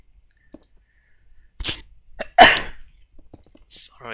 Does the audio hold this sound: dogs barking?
no